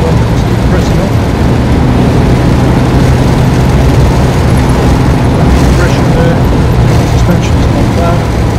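A 1969 Jaguar E-Type 2+2 automatic drives along, its engine a loud continuous rumble mixed with road and cabin noise, with someone talking over it throughout.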